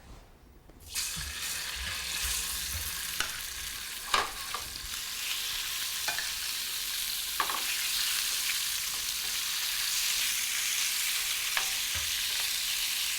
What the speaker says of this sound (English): And then lay it right into this skillet here.